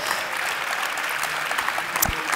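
A short burst of audience applause, steady mid-level clapping from a crowd lasting a couple of seconds without speech over it.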